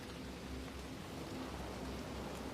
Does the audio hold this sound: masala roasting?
no